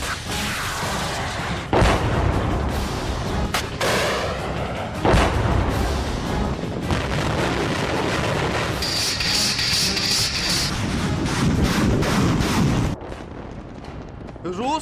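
Heavy artillery shelling and explosions during the Russian bombardment of Ukraine, a dense roar of booms and thuds that stays loud throughout, with voices mixed in.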